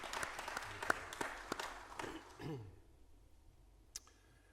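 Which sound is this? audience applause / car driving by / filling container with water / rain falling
audience applause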